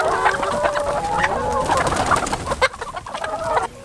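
Free-range chickens on a farm training facility cluck and murmur continuously at close range, with overlapping calls from several birds and a few sharper clucks standing out near the end.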